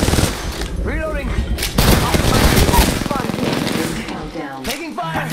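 Rapid bursts of automatic gunfire in an Apex Legends fist-and-gun fight ring out close and loud, rattling in sustained volleys with a voice talking over the shooting.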